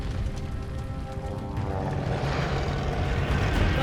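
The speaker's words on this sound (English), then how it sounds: "That's a plane!" A propeller plane passes overhead in Call of Duty: Vanguard, a steady droning engine roar that grows louder over a few seconds, with no talk.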